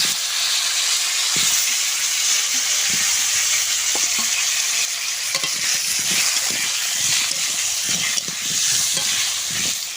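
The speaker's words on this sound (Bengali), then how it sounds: "উচ্ছে ভাজা তেলের ভেতরে আমি আলুগুলো ভেজে নেব।" Potatoes frying in oil left over from frying bitter gourd, a steady close sizzle and hiss with occasional stirring scrapes, no voices.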